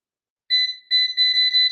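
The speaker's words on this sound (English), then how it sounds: "Still the loud beep, but that's okay." A Cosori air fryer control panel gives shrill electronic beeps: after a moment of silence come a loud beep and then several more in quick succession, close and clear.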